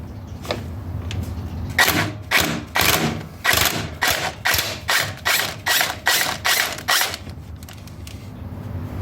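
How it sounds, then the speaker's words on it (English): A ratchet wrench loosens the engine mounting bolts on a Cub Cadet 1042 riding lawn mower, giving a close, loud run of about a dozen rhythmic creaking ratchet strokes with no talking. "So then we can just pop out these 4 mounting bolts."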